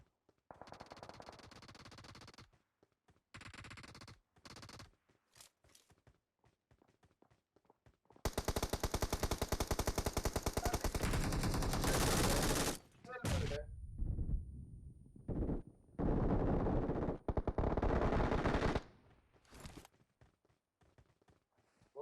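Gunfire in PUBG Mobile comes in several short, sharp bursts, then a long, loud stretch of rapid automatic fire followed by more heavy bursts, sounding close and harsh with quiet gaps between them.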